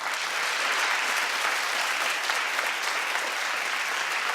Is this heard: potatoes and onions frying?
no